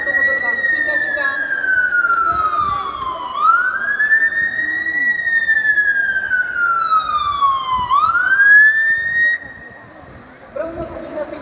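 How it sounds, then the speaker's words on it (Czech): A fire engine water tender approaches a traffic accident scene, its wailing siren rising and falling in long, loud sweeps close by before cutting off near the end. "k tomu místu dopravní nehody se blíží cisternová automobilová stříkačka"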